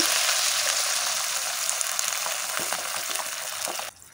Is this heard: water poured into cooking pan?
yes